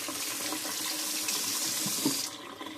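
A tap runs steadily at close range while conditioner is rinsed out of hair, giving a continuous hiss and splash that cuts off abruptly near the end, with no voices.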